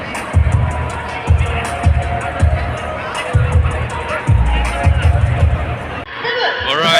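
Dense crowd babble fills a busy convention hall, steady and close, with repeated low thumps and voices talking throughout.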